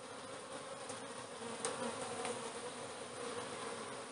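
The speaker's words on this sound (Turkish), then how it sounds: "Arı yoğunluğumuz gayet güzel gözüküyor alt tarafta." Dense, steady buzzing of many honeybees in a multi-storey hive whose queen has been removed, close up and continuous with no talk.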